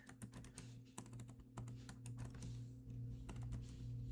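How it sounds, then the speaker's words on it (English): Rapid, uneven typing on a computer keyboard clatters up close, with a steady low hum underneath and no talk. "Oops, sorry, I can't type."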